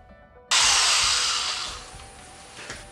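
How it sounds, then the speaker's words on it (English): A power drill bores a pilot hole into the metal body of a Toyota Tacoma truck. The loud whine starts abruptly after a short silence, holds steady, then fades as the bit eases off. "So let's pre-drill."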